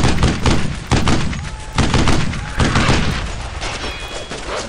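Gunfire crackles in a World War II shooter game, Brothers in Arms: Earned in Blood, with dense overlapping shots and thuds making up a loud, continuous battle din.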